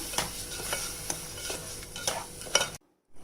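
Sugar being stirred into water in a pan for rava laddu syrup, a steady scraping swirl with soft sizzling and faint clinks of a spoon against metal, close and continuous, then an abrupt drop to near silence at the end.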